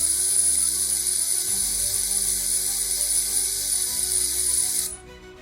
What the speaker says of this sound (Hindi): मिक्स करने के बाद हम इसमें अल्ट्रासोनिक स्टेरर में लगाएंगे।